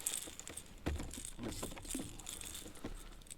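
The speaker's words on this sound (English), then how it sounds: "The rattle rattles and floats." A rattle float on a catfishing rig clicks and jangles in short, irregular bursts, faint and close, with no voices over it.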